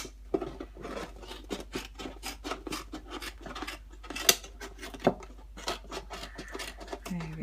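Scissors cut around a recycled carton with repeated short snips and rasping crunches of card, close up, while a person talks throughout.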